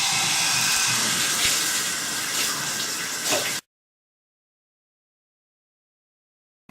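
Water runs steadily as coconut oil scrub is rinsed off, a loud broad hiss like a running tap lasting a few seconds before cutting abruptly to silence.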